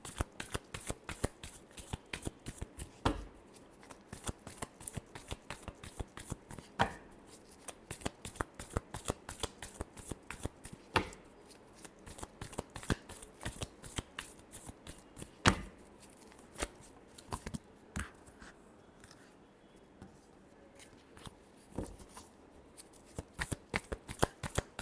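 Tarot cards are shuffled by hand in quick runs of crisp, close flicking slaps, with brief pauses between bursts throughout.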